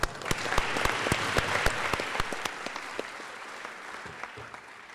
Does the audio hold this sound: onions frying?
no